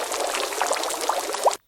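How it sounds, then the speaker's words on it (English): Water bubbles popping as a sound effect: a steady bubbling, pouring wash of water with small distinct pops near the end, moderately loud and alone, cutting off abruptly. "Water bubbles popping."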